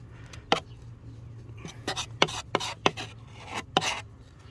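Putty being spread and scraped onto a Citroen C1 car panel during a repair, a series of short rasping strokes at an irregular rhythm, close and fairly quiet over a low steady hum.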